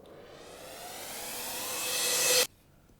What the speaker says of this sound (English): you get this, a reverse cymbal.